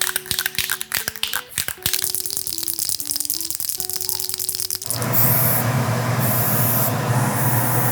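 Black spray paint hisses from an aerosol can onto sword scabbard pieces in close, loud bursts, with intermittent tapping and rattling before a sustained continuous spray takes over.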